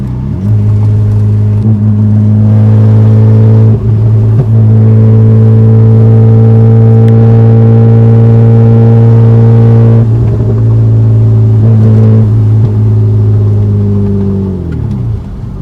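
A BMW E36 with a swapped engine revs hard and accelerates under load, its loud, steady harmonic drone running near and continuous, with brief dips at each gear shift and a final drop as the throttle lifts.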